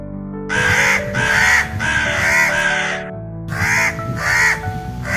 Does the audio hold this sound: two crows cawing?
yes